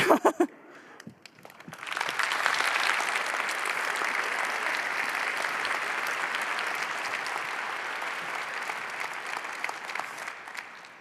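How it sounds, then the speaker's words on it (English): After a talk on mobile surveillance, a conference audience breaks into sustained applause, with a few sparse claps first and then a dense, even wave that holds steady for about nine seconds. "I think we can actually give that thank you back with some more applause."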